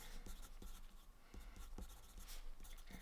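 Pen scratching across paper in steady bursts of short strokes, close and quiet, with no talking over it.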